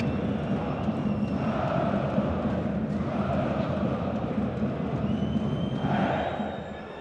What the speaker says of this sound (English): the boos ring out